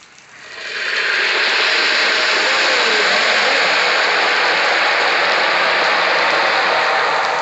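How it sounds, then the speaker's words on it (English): Heavy pouring rain on Thanksgiving Day rises quickly within the first second, then holds as a loud, dense, unbroken hiss of water with no voices over it. "We get a rainy Thanksgiving Day. Pouring down rain here."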